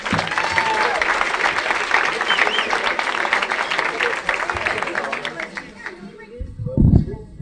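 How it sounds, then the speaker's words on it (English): Club audience in 1993 applauding and cheering as a comedian is introduced at a comedy club, a dense, steady wash of clapping with whoops, tapering toward the end before a brief louder burst. "Let's have a big round of applause for Mitch Hedberg."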